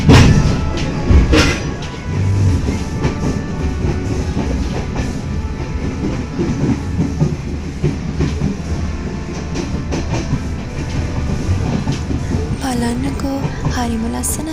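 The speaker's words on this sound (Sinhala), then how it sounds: "ඔයාලටත් මාත් එක්ක ට්‍රේන් එක ඇතුලේ යනවා වගේ දැනෙනවද?" Inside a moving passenger train, loud continuous rumble with rhythmic clickety-clack of wheels on rails, some squealing near the end, carriage noise filling the whole stretch.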